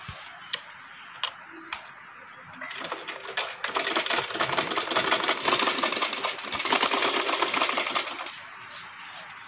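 A sewing machine stitches folded fabric: a few isolated ticks at the start, then a rapid clattering run of stitching for several seconds, ending with a few more ticks.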